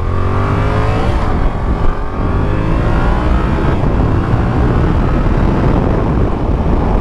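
A Yamaha R7 sport motorcycle rides through city streets, its engine droning loud and steady up close with rising and falling revs and heavy wind rush throughout.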